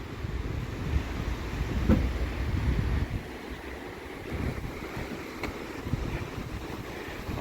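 Steady broadband rush of river rapids flowing beneath a small suspension bridge at the Staircase Rapids in Olympic National Park, constant and moderately loud with some wind buffeting the microphone.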